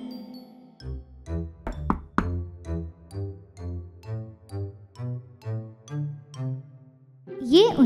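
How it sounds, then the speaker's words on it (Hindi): Three sharp knocks land close together on a door in an evening fairy-tale scene, standing out briefly above a sustained, steady tonal bed. "और उस शाम उसके दरवाजे पर दस्तक हुई।"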